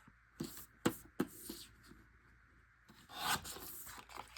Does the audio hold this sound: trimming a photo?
yes